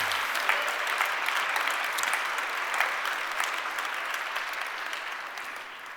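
Sustained applause from an audience at an acceptance ceremony, a dense even clatter of many hands that holds steady and fades slightly toward the end, with no voices over it.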